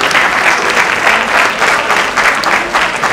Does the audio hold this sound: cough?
no